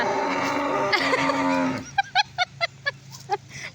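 A tethered cow moos in a rural setting: a single loud, drawn-out low bellow, followed by a run of short, bright, rhythmic calls that may be a goat or bird rather than the cow.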